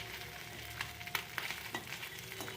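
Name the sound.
fish head frying in pan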